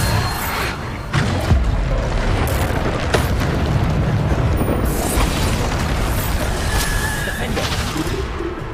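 Bombarda explosion spell in the Hogwarts Legacy PC game: a loud booming blast opens, followed by a dense, sustained roar of bursts and rumbling effects that stays full and heavy throughout.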